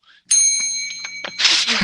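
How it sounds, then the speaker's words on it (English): A bell rung as a sound effect, a bright ding with a lingering tone, followed by a noisy burst near the end, with brief voice sounds around it. "so I can use the bell a couple more times"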